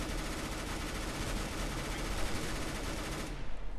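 Dense, continuous automatic gunfire in CS:GO gameplay, a loud unbroken rattle of shots that cuts off abruptly near the end.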